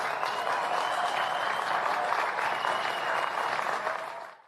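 Steady, dense applause from a large crowd at a commencement speech, sustained for several seconds before fading out at the end.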